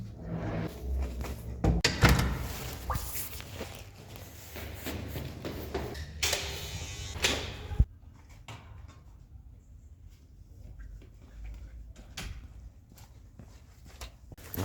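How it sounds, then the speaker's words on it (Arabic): A door in a home stairwell bangs and rattles through a dense, busy stretch, with one sharp clunk marking the shut, then quieter shuffling and faint knocks follow. "قفلت الباب على نفسي تاني"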